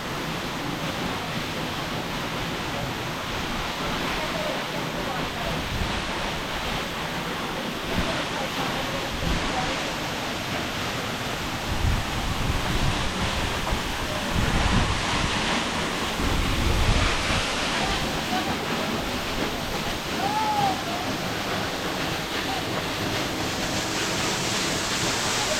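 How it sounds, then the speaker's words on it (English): Waterfall cascade in Upstate New York, a steady broadband roar of falling water heard close by, with wind buffeting the microphone and a swell in loudness midway through. "You can actually feel the mist of the water just falling."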